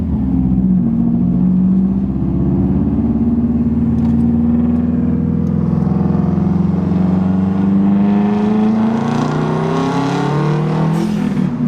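A car fitted with Airlift Performance air-suspension bags drives along a neighborhood street, its engine droning steadily and rising in pitch as it speeds up, with no talking.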